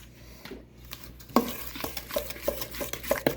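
Blondie batter with vanilla extract being mixed in a bowl by hand, a steady run of soft scraping stirs with sharper clinks of the utensil against the bowl, close and fairly quiet, with no talking.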